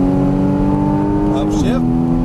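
Race car engine on a track: a loud, close, steady drone that dips sharply in pitch partway through, like a gear change, then carries on.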